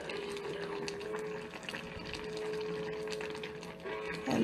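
Spicy tofu soup simmering as its liquid reduces, a soft continuous bubbling with faint pops and a low steady hum, quiet and close.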